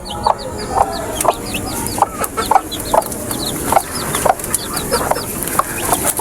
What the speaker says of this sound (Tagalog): Yan yung ating sweater na inahin.